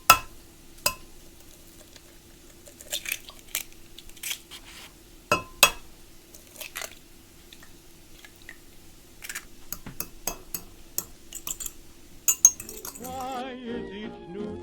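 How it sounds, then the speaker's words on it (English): Four eggs are beaten in a bowl with a whisk or fork, giving irregular sharp clinks and taps against the dish with quiet gaps, before music rises near the end. "so I'll start beating the eggs"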